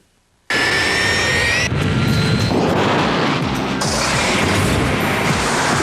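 A loud, close UPS jet aircraft engine roars in with a sudden onset and holds a steady, powerful rumble with whining high tones, with no talking.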